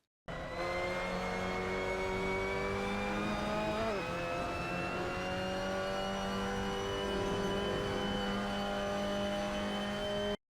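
A Mazda MX-5 Cup race car engine in Assetto Corsa at Portimao revs high and steady, pitch climbing as it accelerates, with a brief dip before rising again; loud and close, no voices.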